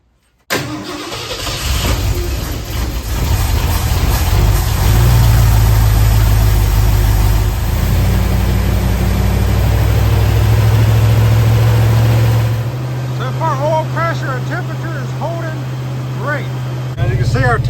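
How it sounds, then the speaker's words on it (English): A Ford 351C V8 in a 1976 F100 truck starts and runs at a steady, loud idle, the revs lifting slightly midway and easing back; some faint chirps and clicks sit on top near the end. "And I'm going to raise the idle up just a touch."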